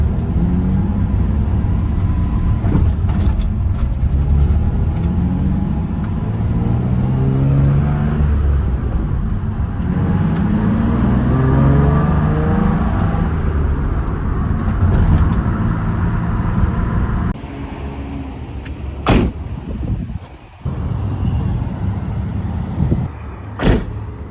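A Nissan 350Z cruises on a road test drive, its engine droning steadily up close with smooth rises and falls in pitch as it accelerates, then quieter interior thumps and clicks like a door or window near the end.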